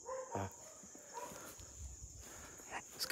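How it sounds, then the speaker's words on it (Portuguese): A few sharp dog barks ring out near the start, then quieter scattered yelps over a faint steady whine and low background noise. "Os cachorros tá latindo ali,"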